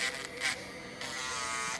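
An electric nail drill e-files a nail and gives off a high, thin whirring buzz. The pitch rises and falls as the bit touches the nail and lifts off in short bursts.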